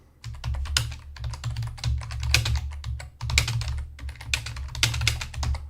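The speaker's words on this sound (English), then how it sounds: "Let me type in." Fast typing on a computer keyboard, loud and close: dense bursts of key clicks in two runs separated by a short pause, with no talking.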